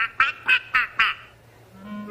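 A cartoon duck gives four loud, evenly spaced quacks up close, followed by a brief quiet stretch.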